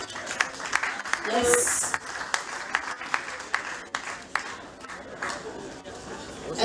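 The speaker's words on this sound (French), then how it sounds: "Applaudissez pour elle, applaudissez, applaudissez s'il vous plaît." An audience claps steadily at a ceremony honouring Congolese musical talent, a moderate, sustained patter of applause that carries on under a presenter's voice.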